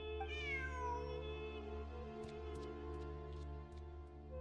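A cat gives one clear, rising-then-falling meow near the start, heard over a constant low electrical hum and a few faint clicks.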